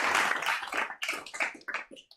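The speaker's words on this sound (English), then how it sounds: "Give him a round of applause." A short round of applause from a small group in a smokers' lounge, a brief cluster of hand claps that thins out and fades within a couple of seconds.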